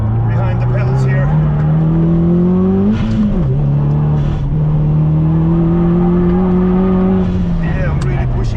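Subaru WRX STI pushed hard around a race track, its engine droning loud and steady from up close with pitch rising and dipping through gear changes, a brief lift near the middle, tires working under the strain, and a voice talking over it.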